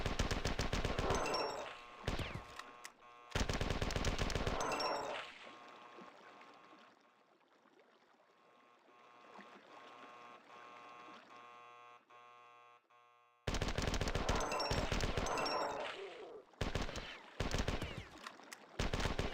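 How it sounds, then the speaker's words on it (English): Gunfire from a weapon in the video game Marathon 2: Durandal rattles in loud rapid bursts that stop for a long quieter stretch of ambient hum, then resume in several close, heavy volleys. "This gun's good."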